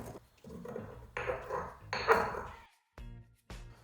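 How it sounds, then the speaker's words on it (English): Black pepper ground by hand in a pestle and mortar, with several clattering, scraping bursts of stone on stone separated by short pauses, close and moderately quiet. "So now we have a pestle and mortar. We're gonna grind it in a way to create multiple textures."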